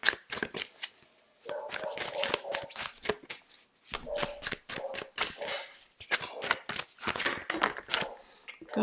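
Tarot cards shuffled by hand in a series of quick riffling, slapping bursts with brief pauses between, close and fairly loud, with no talking.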